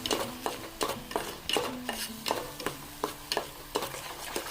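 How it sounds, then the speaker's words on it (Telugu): Sago pearls and moong dal frying in ghee, a soft sizzle under a regular rhythm of spoon scrapes and taps against the pan, close and moderate in level, with no talk. "టోటల్ ఈ రెండును మనము ఆ గీలోనే దోరగా వేగనివ్వాలి, కొంచెంసేపు వేగనివ్వాలన్నమాట"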